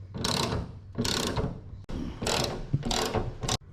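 Ratchet working hinge bolts loose on a Nissan Navara NP300 bonnet, heard as four close bursts of rapid clicking pawl strokes separated by short pauses.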